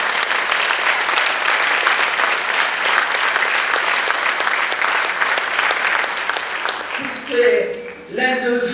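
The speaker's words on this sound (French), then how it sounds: "On va vous applaudir" Audience applause at a Burundian community gathering for Canadian Burundians, dense steady clapping filling the room for about seven seconds before fading, then a voice begins speaking.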